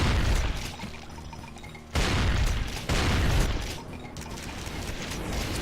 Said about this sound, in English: We'll just use a pump action shotgun from a distance.